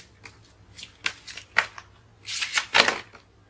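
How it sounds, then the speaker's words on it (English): Tarot cards being shuffled in several quick riffling bursts, close and crisp, with short pauses between them and no talking. "I'll shuffle again."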